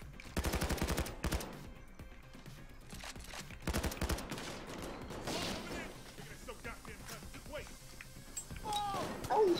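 Rapid bursts of automatic gunfire crackle in the video game Payday 2, loud volleys early on giving way to scattered shots and clatter, with voices talking over the action.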